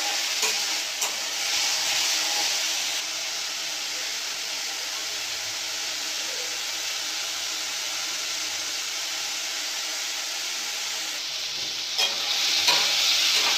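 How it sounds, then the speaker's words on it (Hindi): Tomatoes and cucumber fry in a pan, giving a steady broadband sizzle while being stirred, with occasional scraping knocks near the start and toward the end, close and fairly quiet, with no voices. "अच्छे से मैं भून लूँगी जब तक ना टमाटर का कच्चा स्मेल चला जाए"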